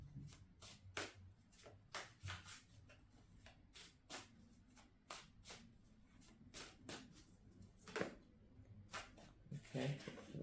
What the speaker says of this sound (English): So yeah, we'll just shuffle and cut the cards.